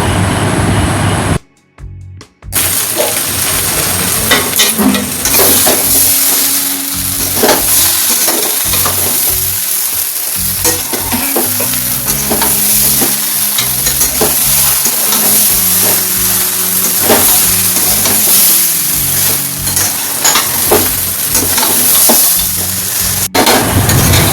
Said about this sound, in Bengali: সয়াবিনটাকে আমি গরম জলে ফেলে ধুয়ে নিয়েছিলাম, এখন ওটাকে আমি ভেজে নিলাম